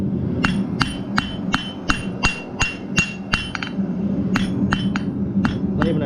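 A hammer strikes a metal hanging piece for a grease lamp, flattening the spot where rivets will go: about fifteen sharp, ringing blows close by, steady at first, then a brief pause before more hits.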